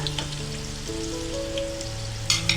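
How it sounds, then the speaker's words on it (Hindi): Vegetable spring rolls deep-fry in oil over a low flame, a gentle crackling patter beneath steady tonal music, with a few brighter pops toward the end. "मैंने इनको लो फ्लेम पे ही तला है"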